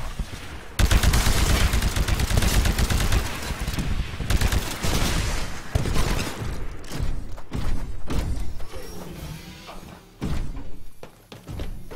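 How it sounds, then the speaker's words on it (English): Anti-Titan weapon fire in Titanfall: loud, heavy thumping blasts and slams in a sustained barrage, with repeated booming impacts and a few short pauses, close and dominant throughout. "Destroy the Titan with your anti-Titan weapon."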